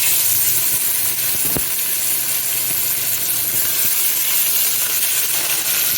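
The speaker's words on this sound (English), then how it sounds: "I'm going to add some oil, then I'm going to add my steak and some garlic and then let this cook." Steak and garlic sizzle in hot oil in a Dutch pot, a steady bright hiss running the whole time with a soft knock or clink partway through, no talking.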